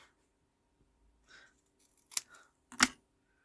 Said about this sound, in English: I think I might just trim that off.